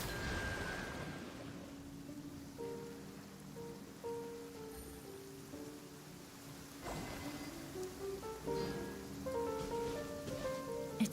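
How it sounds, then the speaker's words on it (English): Steady rain patters over a quiet scene in the video game Genshin Impact, mixed with soft tonal music notes drifting in and out. "It's raining again?"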